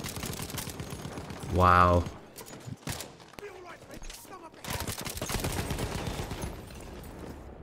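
Gunfire from a weak gun in Battlefield 1, bursts of rapid shots crackling through most of the stretch, mid-distance and moderately loud, with a man briefly exclaiming and a loud tonal game sound near the start.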